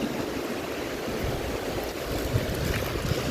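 Sea waves wash against the shore in a steady, dense rush mixed with wind buffeting the microphone, continuous and fairly loud with no voices.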